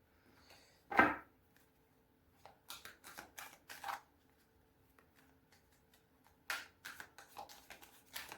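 Tarot cards are shuffled by hand in short riffling bursts, one sharp flurry near the start and then several clustered papery shuffles later, close and fairly quiet with near-silence between.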